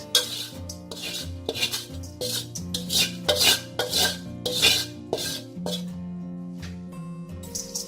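Mee sua noodles are tossed with fried garlic and its oil in a metal basin, producing a run of scraping, rubbing and clanking strokes with a ringing metallic tone and no talk.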